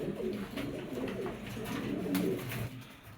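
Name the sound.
pair of black Jacobin pigeons cooing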